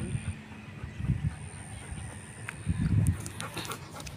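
A dog panting on a hike, breathy bursts coming in two clusters close to the microphone, with faint background noise between them.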